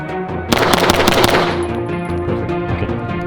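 Gunfire at an outdoor shooting range: a quick, loud burst of closely spaced shots lasting about a second, followed by fading echo and ringing with no talking.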